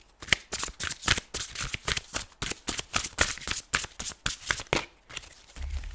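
Tarot cards shuffled by hand in a steady run of crisp, riffling bursts, close and fairly loud, with no talk over them.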